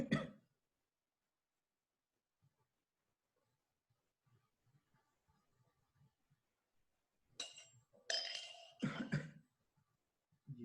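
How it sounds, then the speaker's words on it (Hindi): Coughing from a man in a quiet room: one short burst at the start, then a cluster of harsh coughs and throat clearing near the end, close and loud. "एक मिनट की खांसी हो गई है।"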